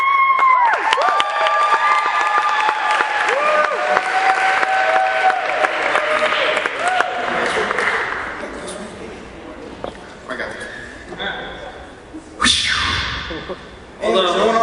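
An audience at an engineering contest applauds and cheers the final contestants, loud sustained clapping with shouts and whistles that thins out toward the end, with a voice speaking over it.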